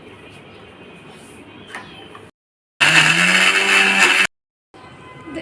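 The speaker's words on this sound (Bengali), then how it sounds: "যে নুন হলুদ দিয়ে সেদ্ধ করে নেওয়া কাঁচা কাঁঠালটাকে এবার আমরা একটু ব্লেন্ড করে নেব" A kitchen blender whirring through boiled raw jackfruit cooked with salt and turmeric, a loud steady motor burst of about a second and a half between quiet pauses.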